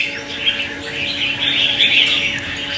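Close, continuous twittering and chirping from red-whiskered bulbuls, a lively layered chorus that swells slightly toward the end.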